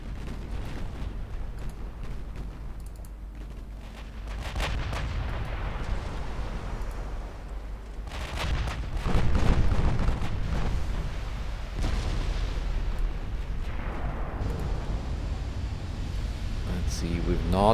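Naval guns fire on enemy cruisers in the warship game Ultimate Admiral Dreadnoughts, with heavy booming salvos and rumbling blasts over a continuous low roar of battle, several strong bursts recurring through the scene.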